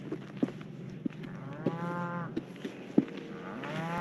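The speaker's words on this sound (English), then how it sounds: "You can hear the cattle in the distance." Cattle mooing in the distance, several drawn-out lowing calls from different animals, faint and far, with scattered soft clicks and no talk.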